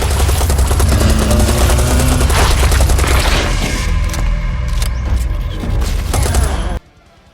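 AK-47 assault rifle firing in the video game Serious Sam: Siberian Mayhem, dense rapid automatic bursts with heavy booms and mechanical clatter, loud and close, ending in an abrupt cutoff to near silence.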